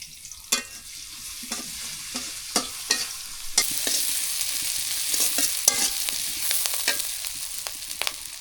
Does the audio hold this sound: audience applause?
no